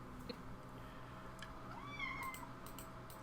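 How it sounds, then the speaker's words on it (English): A cat meows at close range indoors, a rising-and-falling call standing out over steady low room hum, with faint clicks scattered around it. "being meowed at, bear with me."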